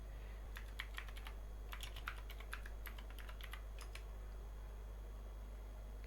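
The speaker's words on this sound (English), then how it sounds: "now I'll just type out" Typing on a computer keyboard, a quiet run of light, irregular key clicks in short bursts over a steady low hum from nearby equipment.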